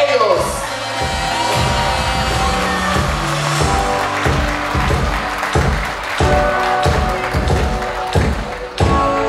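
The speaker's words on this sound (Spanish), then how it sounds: "¡Fuerte el aplauso para ellos!" Guests at a quinceañera party clap and cheer for the birthday girl's parents, the applause running under loud party music with a thumping beat and a background crowd.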